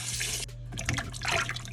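Tap water runs and splashes over raw pork ribs in a sink, a steady rushing stream broken by a brief pause and then uneven splashing as the meat is rinsed.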